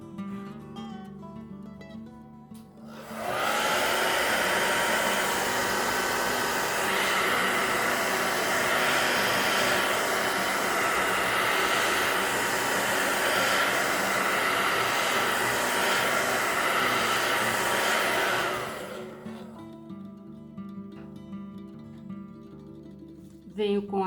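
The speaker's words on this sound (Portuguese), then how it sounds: "eu dou uma secada rapidinha com o secador no jato quente" A handheld hair dryer on its hot setting blows over napkin decoupage on a vintage decorated box, a loud steady roar lasting about fifteen seconds, with an abrupt start and stop and quieter room sound on either side.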